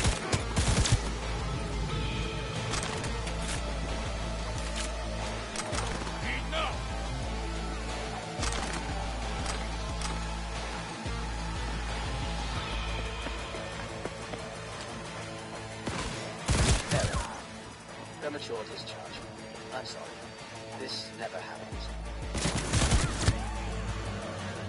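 Smart pistol gunfire in a video game: rapid bursts of shots crackle in clusters over a steady low rumble, with a few sharper, louder volleys standing out near the middle and end.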